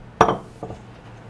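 Chopped onion tipped into a bowl: a bright clink on contact, then a softer second knock a moment later, close and otherwise quiet.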